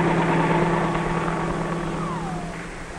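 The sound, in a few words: helicopter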